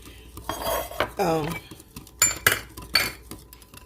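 A utensil mixes yeast with sugar in a bowl, making several sharp clinks and scrapes against the sides in quick irregular strokes, close up, with a short stretch of faint voice.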